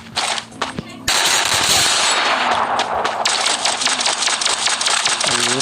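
Rapid laser gunfire in a battle royale video game, a dense sustained stream of loud mechanical bursts after a few short opening volleys, continuous and close.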